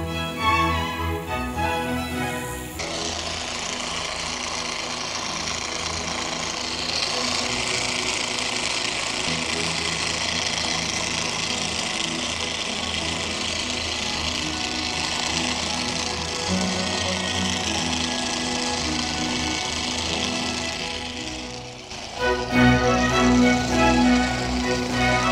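A ProCraft PSH2600 brushless electric jackhammer runs continuously for about twenty seconds, a loud, close, dense hammering buzz that starts abruptly and stops near the end, followed by some handling clatter.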